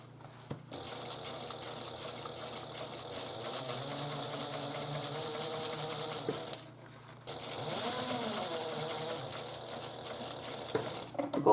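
A sewing machine stitches piping onto a handbag in two runs, its fast rhythmic whirring broken by a short pause in the middle, fairly quiet and close.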